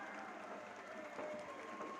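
A hockey crowd at a high school boys game cheers and claps in a steady, distant wash, with scattered applause and murmuring throughout.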